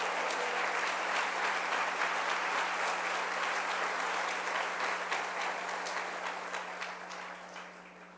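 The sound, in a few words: audience applause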